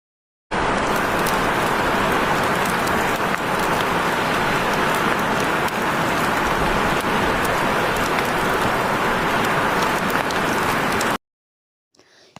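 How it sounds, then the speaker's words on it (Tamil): Heavy rain roars as a sound effect in a children's story about a little snail, a loud, dense, unbroken downpour that lasts about ten seconds and then cuts off abruptly. "மேலே நிமிர்ந்து பார்த்தா பயங்கரமாக மழை வர ஆரம்பிச்சிச்சு"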